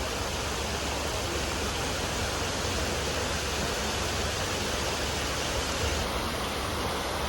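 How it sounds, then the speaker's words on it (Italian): Lake Bled draining into its outflow stream in Slovenia, a dense, steady roar of rushing water, close and constant throughout without any voices. "questo è il punto in cui il lago scarica e dà vita al suo"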